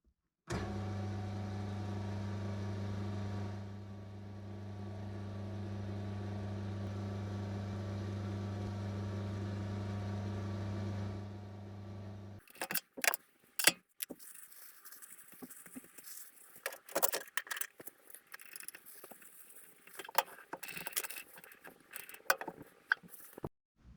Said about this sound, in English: I'm going to center drill the end of the Toolpost mounting stud